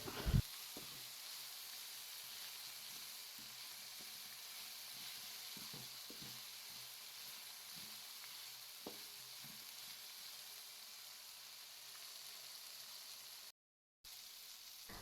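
Eggplant sautéing in a pan with salt, producing a faint, even sizzling hiss with occasional soft taps and scrapes, heard quietly without any talk.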